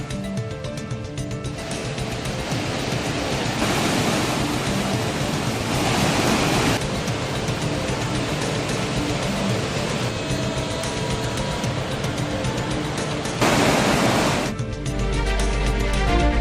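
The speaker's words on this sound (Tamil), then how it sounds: "ஒகேனக்கல் அருவிகளில் தண்ணீர் ஆர்ப்பரித்து கொட்டுகிறது" Hogenakkal waterfalls in flood, water thundering down the falls in a steady, dense roar that swells in places and holds loud throughout with no voices.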